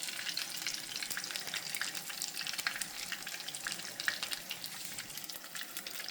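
Grated potato latkes fry in a pan with steady, close crackling sizzle and faint popping, with no talk.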